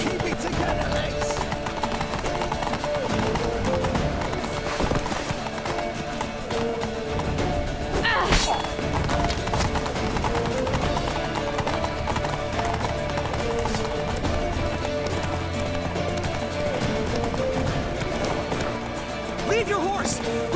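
Galloping horse hooves in The Witcher 3, a rapid continuous clatter of hoofbeats running under game music and ambience for the full twenty seconds, with a whinny and characters shouting over the ride.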